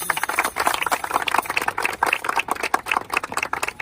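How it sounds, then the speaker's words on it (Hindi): A group outdoors claps for a runner who won a medal in a 1600 m race, giving a dense, steady patter of hand claps for several seconds. "इसके लिए ताली।"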